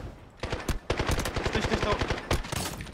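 Uzi submachine gun fire in the first-person shooter Delta Force: rapid, close, loud bursts of automatic shots with brief pauses between volleys, and a voice faintly present underneath.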